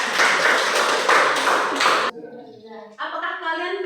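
Students clap together in a classroom in a brief burst of close, dense hand claps that stops suddenly, followed by a teacher speaking.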